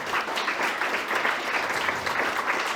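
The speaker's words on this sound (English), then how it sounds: "We clap for them." An audience at a Climathon kick-off event in Bratislava claps for the mentors, a steady, dense round of applause at moderate distance with no talk over it.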